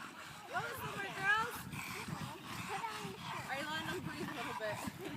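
Dogs whimper and yip in short, high, wavering cries at a camp, mixed with steady voices of people talking nearby throughout.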